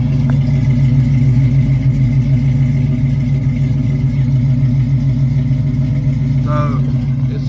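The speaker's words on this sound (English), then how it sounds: "So I had new exhaust put on it with the Flowmaster 40s." Car engine fitted with new Flowmaster 40 mufflers, a loud steady low rumble idling throughout with a faint voice near the end.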